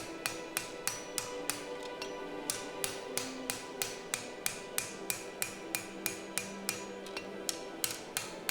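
A hammer forges the bevels on a steel Viking broad seax blade with a steady run of sharp, ringing metallic strikes, about three per second, close and clear with no speech.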